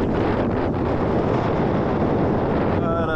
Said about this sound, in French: au lieu de te casser les oreilles à cause du vent